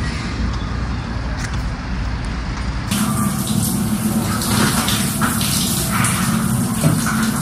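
Water runs steadily in a free shower room at a Chinese highway rest stop as a constant hissing gush that gets fuller and louder a few seconds in, with nothing else over it.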